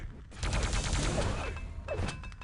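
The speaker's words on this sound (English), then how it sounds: "Oh, that grenade almost hit actually." Rapid grenade and weapon fire in the arena shooter Quake Live bursts out in dense, rattling volleys with a steady booming low end, loud and close for a couple of seconds.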